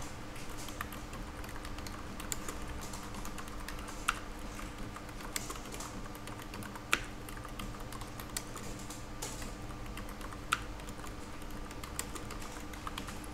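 Computer keyboard typing while placing text in a drawing program, a steady patter of soft key clicks with a few sharper taps like Enter presses spread across the stretch, with no talking.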